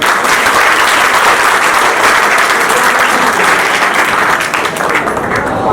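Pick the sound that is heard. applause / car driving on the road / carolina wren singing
applause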